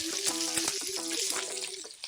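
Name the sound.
tempering spices sizzling in hot oil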